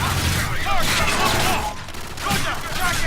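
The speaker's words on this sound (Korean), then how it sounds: "미사일 공습" A missile airstrike in the futuristic shooter Call of Duty: Infinite Warfare, with dense rumbling blasts and whooshing streaks layered together while someone talks over the chaos.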